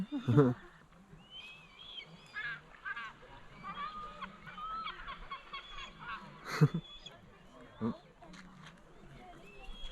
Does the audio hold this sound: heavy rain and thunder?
no